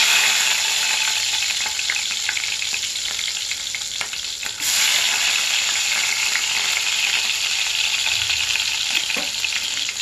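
Sliced onions sizzle in hot oil in a pan for pulao, a loud, steady close-up hiss with occasional stirring clinks.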